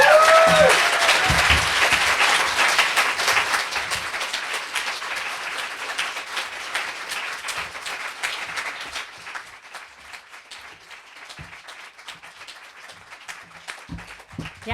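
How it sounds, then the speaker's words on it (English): A literary reading audience claps in sustained applause that starts loud and dense and slowly thins to scattered claps. A brief voice is heard at the start. "Yeah, let's keep clapping."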